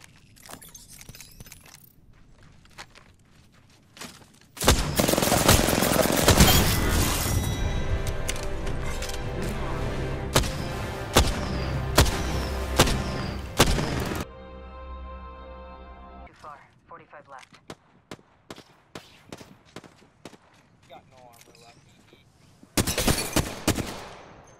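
Sustained automatic gunfire in a battle royale match of Apex Legends, Season 2, in a squads game, roars loud from about 5 to 14 seconds, with a short burst near the end, scattered quieter shots and brief talk between.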